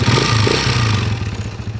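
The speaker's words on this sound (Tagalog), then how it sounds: "narinig nyo yung andar ng kanyang makina mga kabro" An old TMX155 motorcycle engine idles roughly up close, loud and clattery, with a shaky, uneven rhythm.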